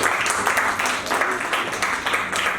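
Theatre audience clapping for the actors of a play, a dense, fairly loud burst of applause filling the whole moment with no voices standing out.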